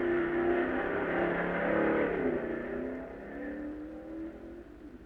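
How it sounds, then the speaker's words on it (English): C-class dragsters racing at the 1958 U.S. Nationals, a loud engine roar that holds steady, then slowly fades as the cars pull away, with no talk. "Now, C Dragster class between two old rivals, the Ramblin' Ram from Texas and the Dragliner from California."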